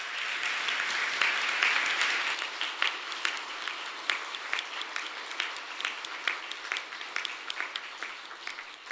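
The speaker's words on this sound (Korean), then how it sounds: "다시 한번 구본창 작가님께 축하의 박수 부탁드리겠습니다" An audience at an award ceremony applauds continuously, a dense, steady wash of many hands clapping that swells early and then slowly thins and softens.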